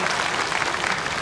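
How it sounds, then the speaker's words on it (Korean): Loud, dense applause from the audience at a Buddhist temple inauguration ceremony for a new head monk, steady and sustained throughout without a break. "응원과 격려의 큰 박수를 한번"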